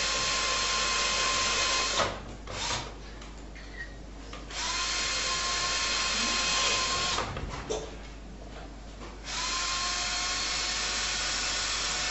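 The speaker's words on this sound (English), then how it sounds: "You just drill the holes where you need them." A power drill whines loudly in two long runs, each stopping briefly between holes, with quieter shuffling and clicks in the pauses.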